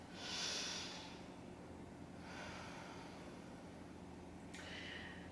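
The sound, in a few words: deep breathing in and out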